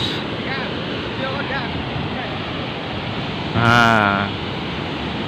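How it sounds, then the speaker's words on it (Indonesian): Big ocean waves break on a beach in a continuous, loud, roaring wash with wind buffeting the microphone, and someone briefly speaks over it. "itu pantainya. Ombaknya sangat besar."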